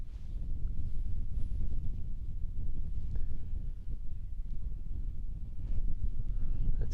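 A strong, chilly north wind blows hard across an open outdoor spot, roaring and buffeting the microphone with a continuous low rumble for the whole stretch.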